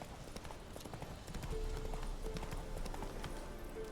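The horse Roach trots in a video game, steady clip-clop hoofbeats close by in a continuous rhythm, with brief tonal blips and a soft ambient bed underneath.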